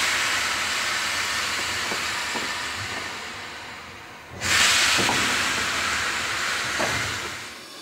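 Steam locomotive 60163 Tornado stands in a railway setting with a steady background hiss, then a sudden loud rush of venting steam, with faint clanks and knocks underneath.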